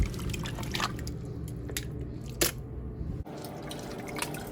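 Water poured onto recycled clay scraps to slake them down toward slip, wet dripping and splashing bursts over a low background hum that cuts out near the end.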